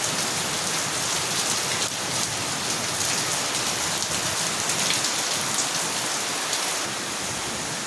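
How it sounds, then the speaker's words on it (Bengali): Heavy downpour falling steadily outdoors, a dense unbroken hiss of rain on surfaces that stays loud and even throughout, with no voices. "বাইরে পড়ছে মুষলধারে বৃষ্টি।"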